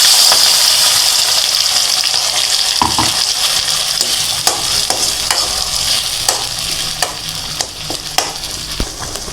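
Chettinad vathakku chutney with curry leaves sizzles steadily in a hot pan with occasional sharp clinks and stirring scrapes, close up and continuous.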